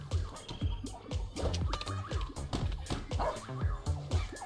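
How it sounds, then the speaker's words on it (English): A dog in the video game Bang-On-Balls: Chronicles barks and whimpers in a quick jumble of yips mixed with busy game sounds, close and lively throughout. "It's a doggy."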